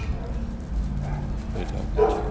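A two-year-old shelter dog in a kennel gives low woofs and a yip amid the echoing noise of the kennel, mixed with a person's steady talking nearby.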